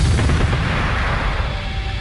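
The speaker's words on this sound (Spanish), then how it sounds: "una terrible explosión sorprende a todos" A powerful explosion goes off during an armed squad's raid on an embassy, heard as a loud, dense rumbling roar that fills the whole stretch without a break.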